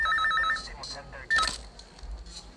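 A telephone rings in a Hindi-dubbed South Indian action film, with bursts of rapid electronic trilling tones repeating under overlapping speech and background film sound.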